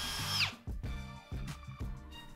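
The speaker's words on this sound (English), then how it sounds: "wiggle the drill bit a little bit. This will elongate the hole" Power drill boring an offset, elongated hole in a wooden tabletop, its motor whining in short repeated bursts of a few seconds each, revving up and stopping in a stop-start rhythm, close and fairly quiet.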